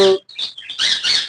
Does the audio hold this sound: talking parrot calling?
yes